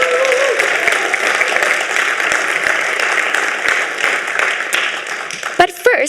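An audience at the Action With Africa Challenge final claps loudly and steadily for several seconds, dense applause that tapers slightly before a short burst of talk at the end.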